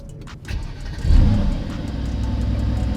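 A sports car engine set to sport mode revs up, a rising low rumble that swells after a second and then holds a steady, loud drone close by.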